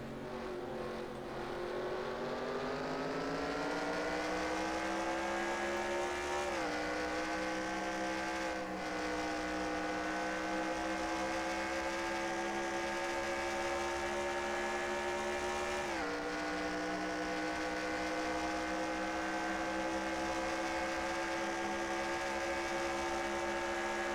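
Onboard race car engine from an IROC car in NR2003 at Watkins Glen, a loud continuous whine that climbs steadily through the gears, with two sharp downshifts for braking, alone with no talk.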